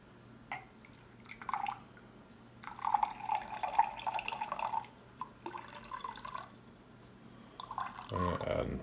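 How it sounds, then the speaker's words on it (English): Water is poured into a container on a scale during a lab experiment, heard as intermittent bursts of trickling and splashing between pauses, quiet and close, with a final louder pour at the end. "what I'm going to do is I'm going to add water"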